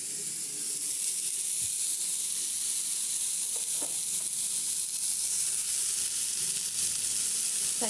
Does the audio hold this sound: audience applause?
no